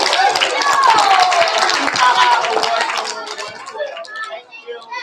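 Children and adults clapping at a school awards assembly for kindergarten and first grades, a loud busy round of applause with cheering voices, tapering off toward the end.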